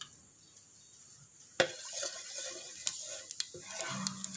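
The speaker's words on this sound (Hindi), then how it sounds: "आधे मिनट के लिए ज़ीरे को अच्छी तरह ऑयल में भून लेंगे" Whole cumin seeds crackle in hot oil over a medium flame, a soft steady sizzle broken by a few sharp spoon-on-pan clinks and stirring scrapes close by, no voices.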